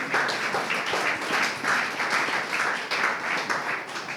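A church congregation applauds steadily at a Sunday service, a dense, continuous wash of many hands clapping at a lively, even level with no pauses.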